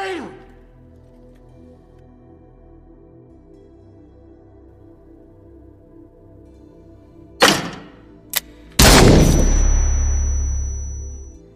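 Gunshots in an action film duel, heard as a sharp blast followed by a brief crack, then a loud booming shot with a long rumbling decay after a quiet stretch.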